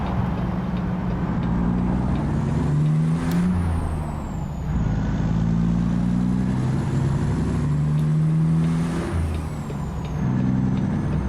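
A heavy truck engine drones steadily in American Truck Simulator while driving through the Oklahoma countryside, a low continuous rumble with slow pitch rises and falls as the rig eases through a right turn.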